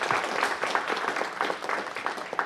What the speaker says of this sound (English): How about everybody give them a round of applause for bringing her out?